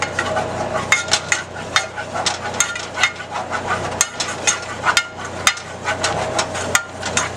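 A spoon stirs flour into melted butter in a pan, giving a brisk, rhythmic run of scraping and clinking strokes against metal, close up and steady for several seconds.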